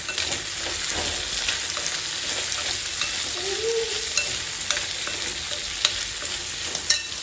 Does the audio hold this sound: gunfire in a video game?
no